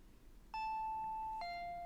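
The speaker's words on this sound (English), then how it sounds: "The doorbell rang again." A two-tone ding-dong doorbell in Higurashi no Naku koro ni chimes once, clear and ringing, the second lower tone sustaining into a quiet room.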